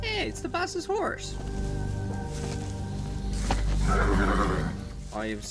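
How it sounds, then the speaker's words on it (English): A horse neighs and whinnies in the Metal Gear Solid 3: Snake Eater finale. A short whinny opens, a low rumbling drone follows, and a second neigh closes it, with voices nearby. "It's the boss's horse."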